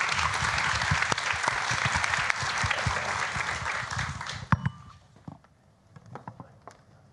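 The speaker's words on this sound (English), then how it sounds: "Join me in giving this panel a round of applause." An audience gives a panel discussion on family farming a warm round of applause that fades after about five seconds into scattered claps and room noise.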